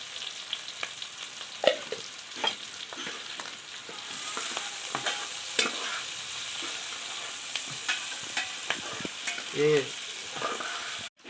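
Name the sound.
cumin, onion and chili frying and being stirred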